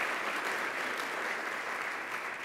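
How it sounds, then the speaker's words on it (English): An audience gives a round of applause for six facilitators at a Scottsdale cure corridor event, a steady wash of dense clapping holding evenly loud from start to finish with no voices. "I wonder if we can have a round of applause for all six of our facilitators."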